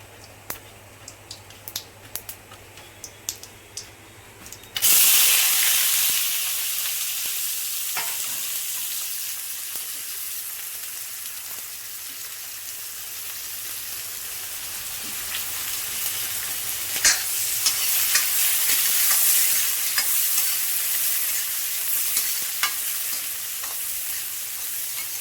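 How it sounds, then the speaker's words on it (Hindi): Chopped onions hit a hot pan of cumin with a sudden loud sizzle that keeps frying steadily and close, with faint stirring scrapes and clicks before the onions go in. "तो प्याज फ्राई हो रही है ना"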